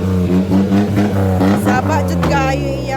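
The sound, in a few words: loud exhaust of a multicab vehicle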